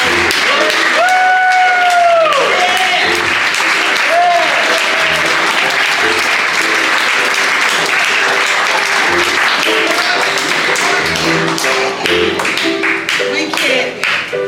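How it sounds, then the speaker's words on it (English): Large community event audience giving sponsors a loud, sustained round of applause, dense clapping close by with cheering voices and whoops rising over it early on. "let's give a round of applause to those sponsors"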